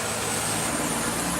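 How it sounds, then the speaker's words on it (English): Road traffic rolls past outdoors, a steady broad engine and tire rumble from passing cars and heavier vehicles, moderately loud and continuous with no voices. "Pause for a traffic noise."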